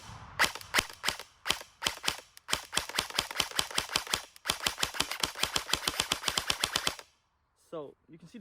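An SA-C07 airsoft gun fired on semi-auto, dozens of sharp close snaps in fast steady succession with a couple of short gaps, stopping abruptly before a brief faint sound at the end.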